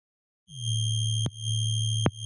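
A sustained synth bass built from an Operator sub, run through iZotope Trash ring modulation, holds a steady buzzy tone with bright ringing overtones, broken by two short clicks or retriggers, and plays alone with no talking.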